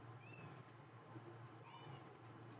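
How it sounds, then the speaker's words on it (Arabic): A cat meows twice in quick succession, short rising and falling calls over a low steady hum, fairly quiet. "في مياو هنا وهنا، نجرب دي"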